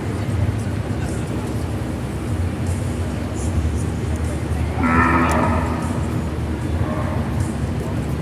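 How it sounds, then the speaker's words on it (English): Brahman cattle low with a single clear moo over steady crowd and arena noise at a national breed show, while the top animals in a red female calf class are walked in the ring; voices murmur throughout. "And he's going to walk his top cattle."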